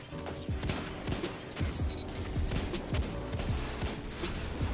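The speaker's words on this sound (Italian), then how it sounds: "Devo sparare con molta calma" Hand cannon fire in Destiny 2, a steady series of sharp, evenly spaced shots throughout, close and moderately loud over dense game noise, with no talking.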